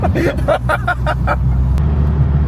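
Renault 21 Turbo being driven on the road, a loud low engine and road rumble throughout, with a person talking over it near the start.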